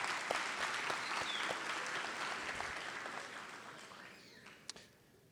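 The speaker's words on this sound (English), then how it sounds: "Another round of applause for her, if you don't mind." Round of applause at a nursing college convocation: a hall full of clapping, steady and moderately loud, tapering off toward the end with a few last claps.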